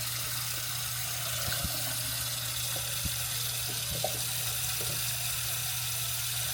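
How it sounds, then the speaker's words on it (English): Steady broadband hiss of steaming hot water running from a faucet into a hotel bathroom sink at the Sahara, Las Vegas, continuous and moderately loud, with a low hum and a few faint clicks. "it's always hot water, steaming hot water coming out"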